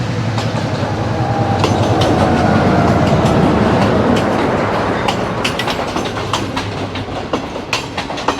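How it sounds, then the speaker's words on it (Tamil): A train bound from Colombo passes close by near Ihalakotte railway station in Sri Lanka, loud and continuous, with rumbling wagons and rhythmic clickety-clack of wheels over rail joints. "கொழும்புல இந்த வர ரயில்"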